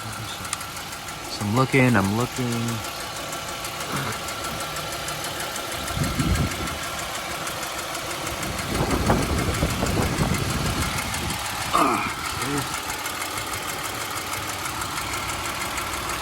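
A 2003-2007 Honda Accord V6 with a manual gearbox idles steadily nearby after an oil pan replacement, a constant mechanical hum running throughout while someone talks over it in short bursts.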